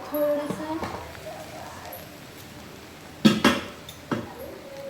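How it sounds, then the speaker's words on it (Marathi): A spoon scraping and clanking against a pot while veg pulao is mixed up from the bottom, with several sharp metallic knocks and scrapes, including a louder burst near the end. "खालपासून खाली लागायला नको म्हणून खालपासून मिक्स करून घेऊया"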